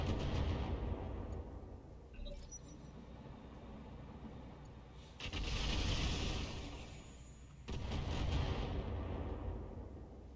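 Allied turrets fire in a video game battle, with heavy rumbling blasts in sustained bursts that swell, drop away and swell again, loud and continuous without talk.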